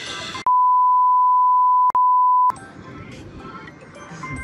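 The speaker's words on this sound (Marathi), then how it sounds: "फोन आया फोन आया" A phone gives a long steady electronic tone lasting about two seconds, cut briefly in the middle, loud and close and standing alone between stretches of background noise.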